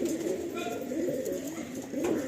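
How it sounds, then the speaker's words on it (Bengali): Pigeons in a loft cooing, soft low throaty coos repeating under a steady background hum, close and moderately quiet, with no clear talk over them. "আপনার সামনে আমি জাস্ট কিছু পায়রা রেখেছি"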